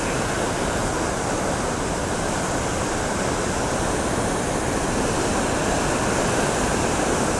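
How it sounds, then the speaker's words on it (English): Water surges over a dam in a loud, continuous roar of broadband rushing noise, steady and close with no break. "I hope the microphone's picking up the roar of this."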